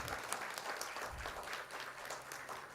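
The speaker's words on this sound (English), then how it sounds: "So we all have a round of applause for them." An audience at a leadership and innovation event applauds steadily, a dense even patter of many hands clapping for the whole few seconds, at a moderate distance.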